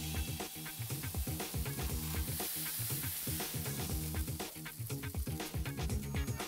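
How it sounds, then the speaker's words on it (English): Korean-style beef short ribs sizzle on a hot grill grate, making a loud, dense crackle mixed with sharp pops. The sound runs steadily throughout with no voices. "Once the beef ribs are sizzling and browned on the bottom, turn and grill the other side the same way."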